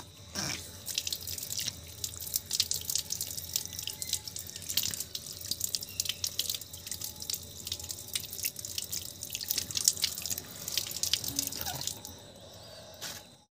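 Running tap water splashes and drips steadily for about twelve seconds as something is rinsed after watering newly planted flower plants in a home courtyard, close and fairly quiet, then stops abruptly.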